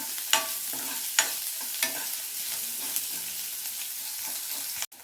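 Onions frying with lentils in a pan for a methi tomato curry, a soft steady sizzle punctuated by several sharp spoon-scraping stirs at regular intervals, close and without talk.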